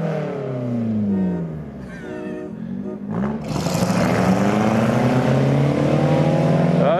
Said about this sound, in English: The rally car against the boat.